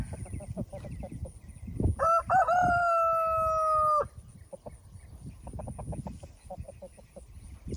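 A rooster crows once, loud and drawn out, amid scratching and clucking from nearby chickens before and after.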